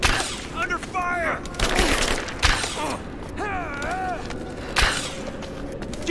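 Scattered gunshots from Rise of the Tomb Raider on Xbox One X ring out at irregular intervals between shouted voices and mechanical clanks.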